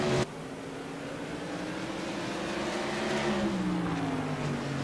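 Modified race cars on track at South Boston Speedway, a CRA Modified Madness Tour race, with engines roaring steadily and loud throughout, pitch shifting as cars pass and accelerate, and no talk.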